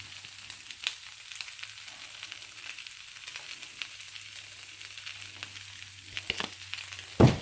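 Turkey Spam slices fry quietly in a pan, a soft steady sizzle with faint crackles throughout, ending in a brief louder clatter near the close.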